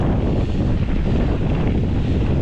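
Strong wind roars and buffets the microphone on a bike trail during a heavy rainstorm, a steady loud rushing that fills the whole stretch with no talk.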